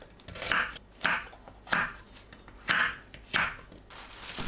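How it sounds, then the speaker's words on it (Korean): Knife chopping pear, onion and red chili on a cutting board for a Korean fresh cabbage kimchi, about six distinct cuts in an uneven rhythm, close and moderately loud with no talking. "배, 양파, 홍고추를 믹서에 갈기 좋은 크기로 썰어주세요."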